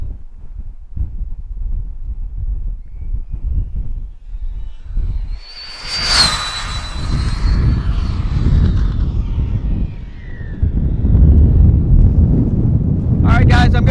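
Traxxas Slash 4x4 RC car on a speed pass at full throttle, its high-pitched motor whine rising and sweeping past mid-clip over steady wind rumble, then fading into the distance.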